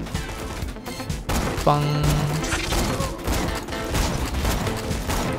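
Gunfire in Borderlands 2, rapid game shots and impacts mixed with clanking effects, under someone talking over the action.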